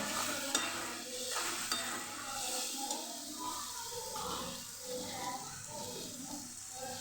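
Spices are stirred into kantola (spiny gourd) with onion frying in a pan for a Kathiyawadi-style shaak, giving a steady scraping stir over a continuous sizzle, close and fairly loud throughout, with no talk.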